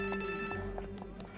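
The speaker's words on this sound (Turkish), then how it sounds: "Babacığım, telefon çalıyor telefon." A telephone rings in a Turkish TV drama scene, a steady electronic ringing tone with faint clicks and knocks, low in level and heard indoors.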